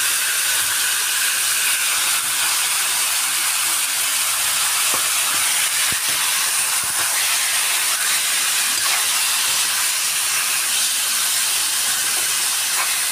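Chicken and pork marinated with pepper sizzle in a pan for afritada, a loud, steady hiss that carries on unbroken and close up with no talk.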